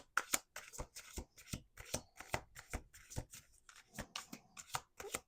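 A deck of playing cards shuffled by hand close up, a long run of quick, crisp riffles and taps repeating in an uneven rhythm.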